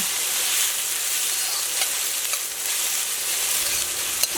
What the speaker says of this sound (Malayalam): നമ്മുടെ കടുക് പൊട്ടി കഴിഞ്ഞപ്പോൾ നമ്മൾ കട്ട് ചെയ്ത് വെച്ചിരുന്ന ഇഞ്ചിയും പിന്നെ പച്ചമുളകും സവോളും ചേർത്തിട്ടോ